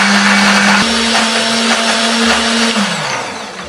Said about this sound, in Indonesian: Masukkan dulu ke dalam blender, tambahkan kemiri, bawang putih, bawang merah, kunyit, jahe, tambahkan sedikit air supaya lebih gampang untuk menghaluskannya.